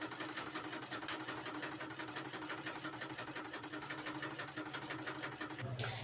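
A sewing machine runs steadily with a fast, even mechanical whirring and rapid ticking rhythm, ending with a brief clunk.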